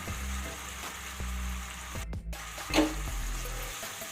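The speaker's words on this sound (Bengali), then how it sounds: "এবার আদা কাঁচা লঙ্কার বাটাটাকেও মশলার সাথে খুব ভালোভাবে মিশিয়ে নেব আর তারপরে বেশ কিছুক্ষণ কষিয়ে নেবো" Ginger and green chilli paste sautéing with spices in a pan for a curd pointed-gourd dish, a steady sizzle broken by scraping stirs, a short dropout, then a louder clatter near the end.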